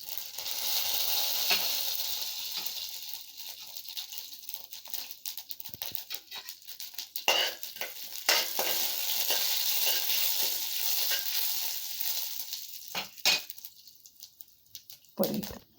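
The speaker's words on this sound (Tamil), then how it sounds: "இப்போ நல்லா பொரியுதுங்க" Mustard seeds, cumin and chana dal fry in hot oil for onion sambar, a steady crackling sizzle with sharp pops and spatters, occasional louder bursts and stirring scrapes.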